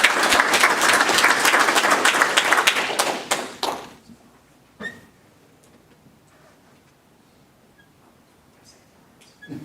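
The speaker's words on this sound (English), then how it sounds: "Let's give them a round of applause." Applause at a city council meeting, a dense round of clapping for about four seconds that fades out, followed by near silence with a few faint taps and a soft thud.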